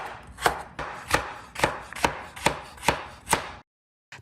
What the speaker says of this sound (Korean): 단호박 300g을 껍질째 잘게 썰어주세요.